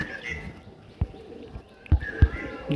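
A caged male Madras pigeon gives soft low coos close by, broken by a few sharp thumps and knocks, with a thin higher tone drifting through.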